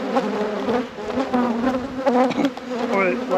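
Honeybees buzz around an opened, very strong hive, a close, loud, wavering drone with many overlapping buzzes rising and falling.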